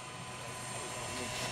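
A large radio-controlled model helicopter in ADAC rescue livery, styled as Christoph 31 of Berlin, flies at a model aircraft show, its rotor and turbine making a steady, loud, broadband whine throughout.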